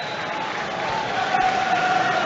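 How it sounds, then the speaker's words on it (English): A home football crowd at Nottingham Forest's FA Cup tie against Wolverhampton Wanderers applauds a player being substituted off, a broad steady patter of clapping swelling slightly, heard at a distance. "He got a big round of applause as he made his way off in place of Emmanuel Dennis."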